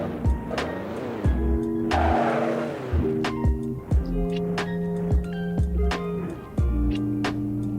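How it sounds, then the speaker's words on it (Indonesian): Car in a video game being driven into a parking spot on a slippery surface, with a revving engine whose pitch rises and drops repeatedly, shifting gears, plus a brief tire skid. "Ntar ya kita parkirin dulu nih mobil."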